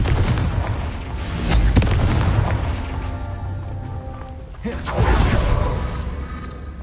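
Confringo fire spell blasts in a Harry Potter video game on PS4, heavy booming explosions with whooshes over dense game music and effects, loud and continuous with a fresh burst near the end.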